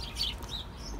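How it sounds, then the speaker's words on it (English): Birds chirping outdoors on a bright, snowy day, with faint, brief high tweets rising over a steady low background rumble. "Birds. Ooh, birds. Pretty."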